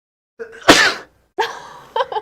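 A single loud, close sneeze bursts out during a high school news broadcast, followed by brief sounds of a reaction.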